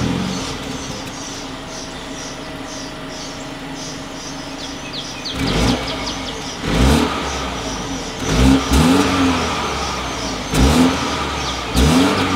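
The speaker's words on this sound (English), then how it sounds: "As always, here is that exhaust clip." A 2020 BMW X1 with dual exhaust outlets and chrome tips idling, then revved in several short sharp bursts that rise and fall, with birds chirping faintly in the background.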